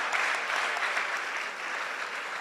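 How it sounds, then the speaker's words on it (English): Steady applause from a convention audience at a Catholic medical and dental gathering, continuous and fairly distant. "Please, a round of applause for Daddy."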